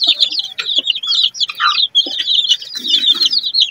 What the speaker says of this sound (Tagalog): So ito ating mga sisyo nasa 1 month na.